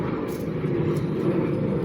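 A steady low roar of an airplane climbing overhead just after takeoff from Chiang Mai, heard from beside the Ping River, continuous and moderately loud with no talk.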